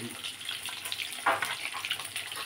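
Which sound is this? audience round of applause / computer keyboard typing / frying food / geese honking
frying food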